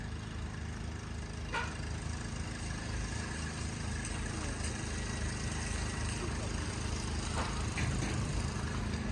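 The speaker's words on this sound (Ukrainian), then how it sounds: "перший тракторець пішов на запуск" A Basak tractor engine runs at a steady idle in a service yard, a low, continuous rumble at moderate distance with a faint knock or two above it.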